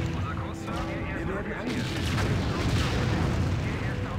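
Artillery fire in the Empire Earth strategy game pounds a building, a dense rumbling barrage of booms and crackling blasts that grows louder and fuller midway, continuous and close.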